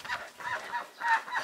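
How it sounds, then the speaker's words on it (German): Chickens in a garden give a few nasal, honking clucks in a loose rhythm, moderately close and fairly soft. "werde ich auf jeden Fall mal zu den Hühnern rausgehen"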